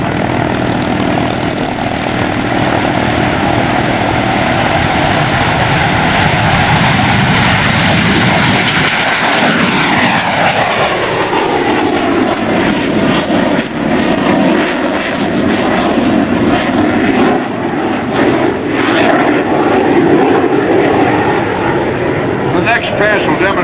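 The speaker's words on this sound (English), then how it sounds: "Pass will demonstrate the agility of the Hornet in changing direction." A CF-18 Hornet jet fighter in a demonstration at the 2004 NAS Oceana airshow roars loudly and continuously, its engine pitch sweeping down and then rising as it changes direction, with crowd and announcer talk beneath.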